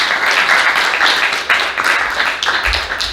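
An audience at a presentation about the Immeuble de la Solidarité in Le Mans applauds two speakers with loud, dense, continuous clapping that swells and eases slightly over a few seconds.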